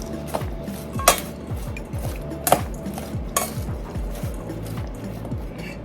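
Cabbage and red onion being tossed for slaw in a bowl, giving repeated soft rustling and clinking strokes with a few sharper knocks against the bowl, close and moderately loud.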